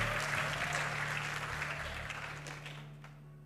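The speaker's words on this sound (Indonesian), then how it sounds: "Mari berikan tepuk tangan buat Tuhan Yesus." A church audience claps for several seconds in a dense, steady burst of applause that gradually thins and fades toward the end, with a low hum underneath.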